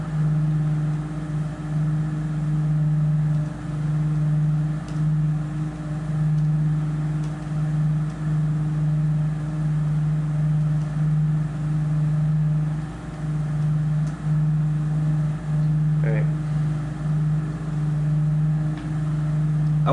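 A racing video game car engine drones loudly and steadily at a constant pitch, holding a continuous close hum throughout with only slight fluctuations and no talk.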